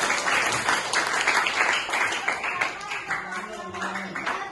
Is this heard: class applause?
yes